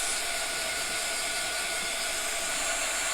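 A hair dryer blows steadily to dry chalk paste on a craft box frame, a constant close whooshing hiss with an even motor whine and no breaks.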